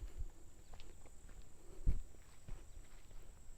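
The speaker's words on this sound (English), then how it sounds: "You guys can probably hear every footstep." Footsteps on an outdoor path beside a reservoir, faint and fairly steady, with one heavier step standing out near the middle over a low background hum.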